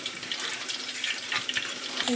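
Water is poured into a cooking pot for a Tamil bottle gourd masiyal and okra poriyal dish, giving a steady hissing splash throughout. A faint clink comes near the end.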